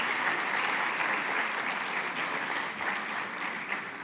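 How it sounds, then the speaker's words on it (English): Sustained applause from a conference audience at ICAN, steady and dense across the whole stretch with a faint murmur of the crowd underneath. "Let's give him a really big applause."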